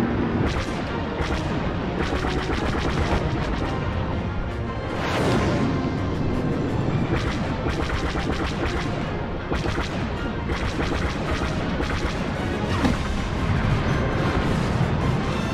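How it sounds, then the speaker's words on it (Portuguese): Enemy bombardment in Star Wars Battlefront 2: loud, sustained artillery blasts and crackling gunfire with repeated booms and sharp impacts layered over one another, continuing steadily without letup. "Bombardeio inimigo iniciado."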